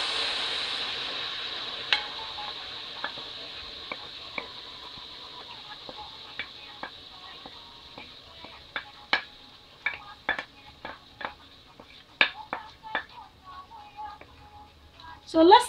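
Pre-cooked tomato sauce hits hot oil seasoned with cayenne pepper for an egg stew, giving a steady soft sizzle broken by scattered sharp pops and ticks that grow busier toward the end.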